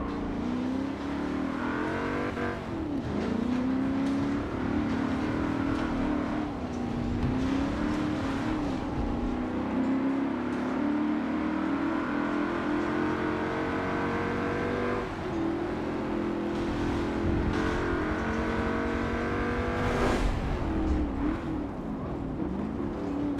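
Race cars in Forza Motorsport 7 collide and spin out: a steady, loud engine drone with shifting revs and pitch swings, a continuous roar of cars running close together through the race.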